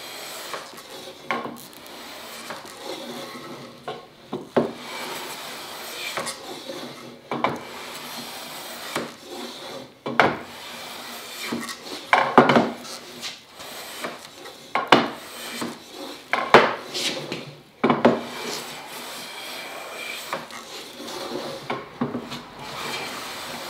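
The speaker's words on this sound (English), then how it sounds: "I need to shave a lot off this corner here and nothing over here" A hand tool shaves wood off the corner of a chest of drawers to form a taper, giving irregular rasping, scraping strokes with pauses between them, close and fairly quiet.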